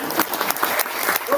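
Audience applause at a general body meeting, a short burst of clapping from a room of listeners, close and fairly loud with uneven individual claps.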